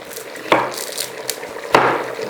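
Knife chopping onions for lamb bunny chow on a board in a home kitchen, two sharp wooden knocks about a second apart over quiet kitchen background noise.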